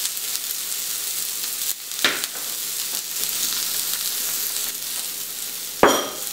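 An omelette with vegetables frying in a pan on a stovetop, giving a steady soft sizzle throughout with a few sharper crackles and pops, close by and with no talking.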